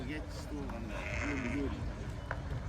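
Lambs and sheep bleat in a busy livestock market, several wavering calls rising over a steady crowd murmur and nearby voices talking throughout.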